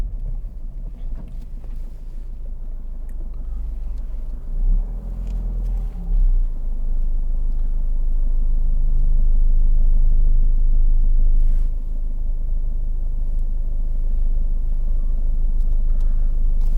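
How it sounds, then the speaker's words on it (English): Inside a 2014 Ford Fiesta 1.5 TDCi Zetec diesel idling at about 900 rpm in fifth gear while pulling along, a steady low engine drone and road rumble, loud and continuous with no talk. "It's ticking over. It's doing about 900 revs in fifth gear, and we're pulling away."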